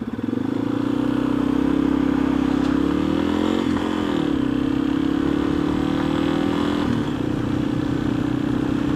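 A 2015 Yamaha XT 250 motorcycle is ridden at a steady pace, its single-cylinder engine droning loud and close with small rises and dips in revs and a constant rush of wind.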